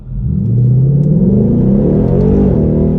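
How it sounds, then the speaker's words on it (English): A 2021 Camaro LT1 or Mustang GT launches hard from a standstill, its V8 rising in pitch as it pulls through first gear, a loud, close, building rumble with no voices. "we'll come close to it and see if this car can hook off the line"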